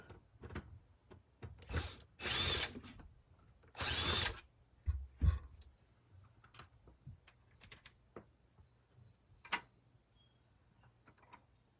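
Screws come out of the back of a Honda Civic Si gauge cluster in a series of short whirring bursts from a small power driver, with two longer runs among scattered clicks and taps, close and alone.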